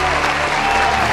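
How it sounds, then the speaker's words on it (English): A crowd applauds loudly and steadily for academic and special awardees and their parents at a junior high school completion ceremony, the dense clapping unbroken for the whole moment. "Let us give our academic and special awardees and their parents a big round of applause."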